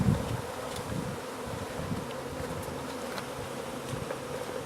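A dense, steady buzz of many honey bees swarming close by after being shaken into a hive, with a few low thumps at the start.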